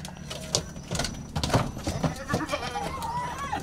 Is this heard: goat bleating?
yes